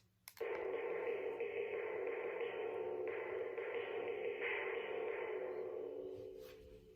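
A sustained, resonant timpani roll swells and holds steady for several seconds, then gradually fades, with no voices present.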